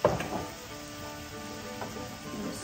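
Okra cooks in olive oil in a pan with salt, pepper and paprika, giving a soft, quiet sizzle and light crackle, with a brief clatter of stirring at the start.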